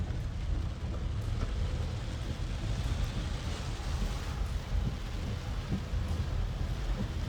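A thunderstorm with heavy monsoon rain in Lonavala is a continuous, dense rush of rainfall with a low rumble underneath. It sounds even and moderately distant, with no voices.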